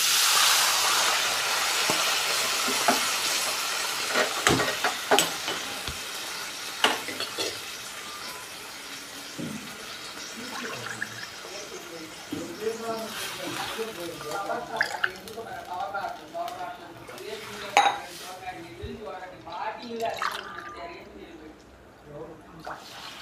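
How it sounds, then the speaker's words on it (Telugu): Water poured from glasses into a cooking pot of rice and split moong dal, a gurgling, splashing pour with several bursts close by, fading toward the end. "కాబట్టి దీంతో 6 గ్లాసులు వాటర్ వేసుకుందాం"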